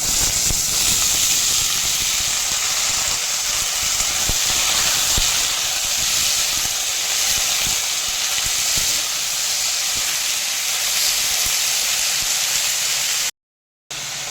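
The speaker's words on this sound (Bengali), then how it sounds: "কেটে ধুয়ে জল ঝরিয়ে রাখা আলুটা দিয়ে দিচ্ছি" Washed, drained potato pieces hit hot oil where garlic and whole spices have browned, for a Bengali bathua greens curry; a loud, steady hiss of sizzling runs unbroken for the whole stretch before cutting off abruptly near the end, with no talking.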